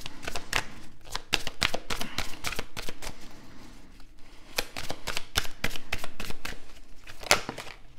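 Tarot cards shuffled and laid down during a French card reading, a run of crisp, papery snaps and slaps close by, coming in quick bursts with short pauses.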